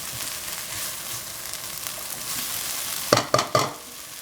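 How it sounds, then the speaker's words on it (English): Onions sauté in a pan for shepherd's pie, a steady close sizzle and crackle with three quick scraping clinks of a stirring utensil near the end. "first of all, we're going to saute the onions"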